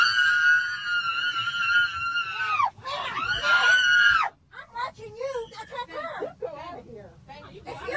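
A woman screams loudly and at length on board an aircraft, a sustained high wavering cry that breaks off and then resumes as sobbing, shouting speech from nearby.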